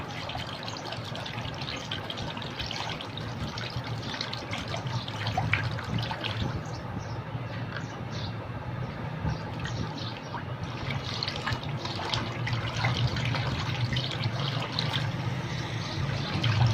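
Cold water poured into a hand-stirred cream mixture, a steady trickling and splashing that runs continuously at moderate level with small clinks and stirring noises throughout.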